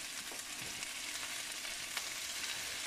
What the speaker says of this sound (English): You want the syrup to fry with it.